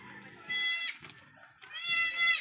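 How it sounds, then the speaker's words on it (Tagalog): Two loud, wavering goat bleats from a newly kidded goat, close by, each about half a second long with a short gap between them and no talk over them. "oh, ito ng kambing, oh."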